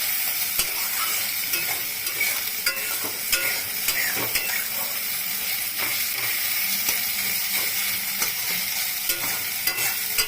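Soybean chunks frying in a pan make a loud, close, constant sizzle broken by rapid scraping and clacking as a spatula stirs them, with sharp ticks scattered all through and no voices.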